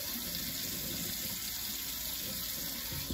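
Water running steadily from a bathroom tap during a straight razor shave, a continuous hiss and splash at moderate level throughout, with no talk.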